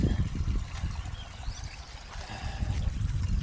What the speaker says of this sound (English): we still have a lot of water coming, and that's just from the field there